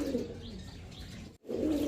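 A coop of pigeons at a seller's stall gives low, throaty coos, a steady burst that breaks off briefly and then resumes nearby.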